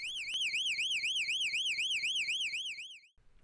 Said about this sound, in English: that siren is loud